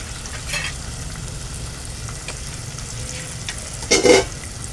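Vegetables with garlic paste frying in a pan as a soft, steady sizzle, with a few brief scrapes of a spoon stirring and a louder clatter near the end.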